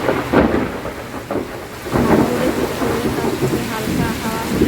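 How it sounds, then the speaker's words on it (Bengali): A heavy afternoon downpour with thunder: dense loud rain hisses continuously while low rumbles of thunder roll through, with no voices. "এত বৃষ্টি হচ্ছে যে বাইরে নিচেই নামা যাবে না।"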